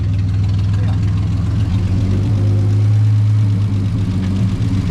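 A rare Triumph TR250 pulled from a junkyard after 40 years of sitting runs at a low, loud, steady idle close by, with a deep rumbling hum and people talking over it.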